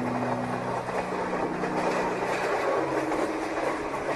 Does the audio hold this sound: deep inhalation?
no